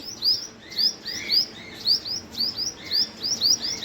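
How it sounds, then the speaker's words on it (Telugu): Small birds chirp sharply and repeatedly while mobbing a pet squirrel named Bittu, the bright tweets coming in quick bursts about every half second, close and fairly loud over a soft background hiss. "ఈ చిన్న చిన్న బర్డ్స్ అటాక్ చేస్తున్నాయి"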